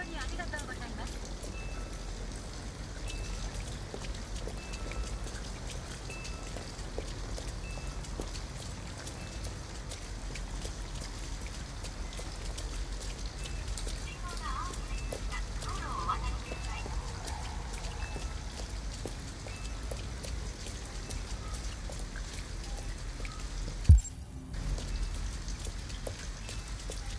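Rain falls through the night in a steady, dense patter of drops on surfaces, with a brief sharp knock near the end.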